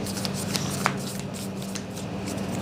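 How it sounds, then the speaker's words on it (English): Tarot cards are shuffled by hand, with a continuous close papery riffling and rustling and a few soft flicks as cards slide and are pulled from the deck. No talking. "Now, let's pull 4 additional cards from the Unicorn Tarot."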